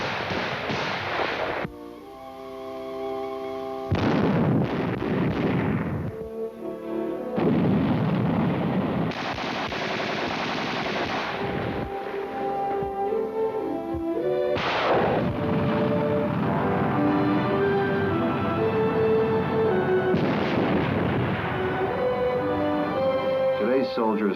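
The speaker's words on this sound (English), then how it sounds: "He sharpens his shooting eye on cardboard enemies." Infantry rifles fire at cardboard targets on a training range, sharp repeated shots and bursts crackling over a long stretch with music, under a narrator's voice.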